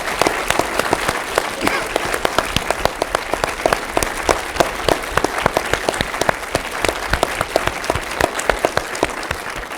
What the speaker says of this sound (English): let's give a real round of applause to the Moot Court.